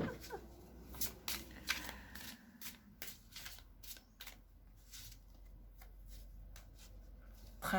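Oracle cards shuffled by hand for a card reading, soft repeated riffling and flicking at close range, quiet and irregular, with faint talk in places.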